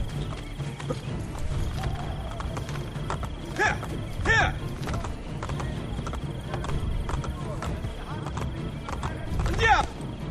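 A horse in the video game Assassin's Creed Brotherhood, with steady clip-clopping hooves and a few short whinnies over ambient game background, loud and close.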